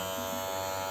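A steady electric buzzing hum of a small motor as a Kemei KM-1032 cordless hair clipper runs continuously for a moment.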